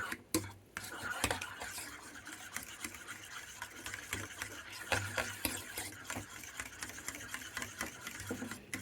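A spoon stirs mayonnaise ranch dressing with coarse ground black pepper in a bowl, making a close, continuous run of quick scraping clicks and taps against the dish, with no voices.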